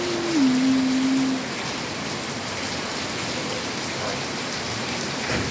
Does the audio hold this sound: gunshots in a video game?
no